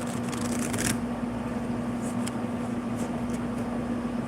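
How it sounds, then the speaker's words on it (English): A deck of cards being shuffled, a brief papery riffle burst near the start, then a few softer flicks against a steady background hum, no talking. "I'm going to shuffle one more time"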